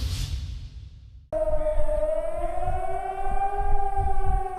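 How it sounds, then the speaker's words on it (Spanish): Air raid sirens sound across the cities of the free part of Cyprus at 5:30 in the morning. After a moment of muffled noise, a loud, steady wail begins and holds, its pitch drifting slowly upward. "sonaron las sirenas antiaéreas en todas las ciudades de la parte libre de Chipre"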